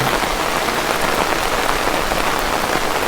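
Steady, loud rain pours down at a monastery during a downpour where young novice monks play in the water, a dense unbroken hiss of drops on surfaces with no voices.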